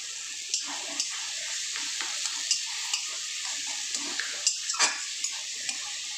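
Fried onion, eggplant, tomato, garlic and green chilli are stirred and mixed in a pan, a soft sizzle under a series of light regular scrapes and taps of the utensil.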